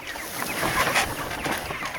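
Pastured chickens cluck out in the open, a steady scatter of soft overlapping clucks at moderate distance, with faint outdoor rustle underneath.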